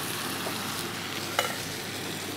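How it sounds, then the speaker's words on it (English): Canned diced tomatoes poured into a hot, sizzling pan for shakshuka: a steady close frying hiss with a brief wet splash partway through, no voices. "Okay, so we chuck in 1 can of diced tomatoes."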